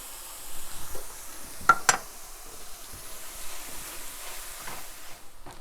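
Ground turkey sizzles in a pan for potato nachos, a soft steady frying hiss broken by a couple of sharp scraping stirs near the start.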